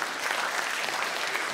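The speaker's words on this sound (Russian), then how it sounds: "Ну, спасибо большое за эти маленькие аплодисменты." A small audience at a comedy show of embarrassing stories claps in a brief, even patter that stays moderately quiet and continuous, with no voices over it.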